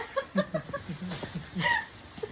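A run of short, choppy chicken clucks comes in quick bursts, close and moderately loud, with a few higher squawks near the end.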